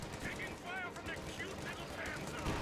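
A Panzer fires in a strategy video game: rapid gunfire bursts at moderate volume, mixed with game unit voices and background battle noise.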